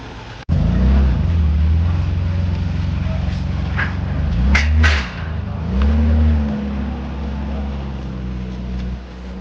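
A Mercedes-Benz W124 300CE coupe engine starts up close by and runs with a deep, steady idle, its revs rising and falling a few times.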